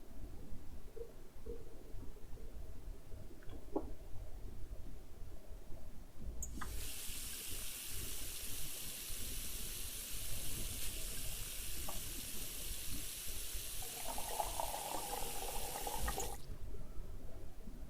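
Virtual kitchen sink tap in a cooking simulator game runs steadily for about ten seconds, a loud broadband water rush filling a pan, with a deeper filling tone near the end before it cuts off.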